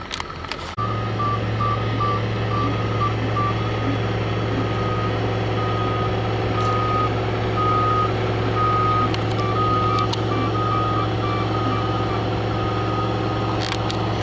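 A truck's reversing alarm beeps steadily in front of an asphalt paving machine working on an airport turning-head shoulder, its repeated tones riding over a constant loud diesel engine drone.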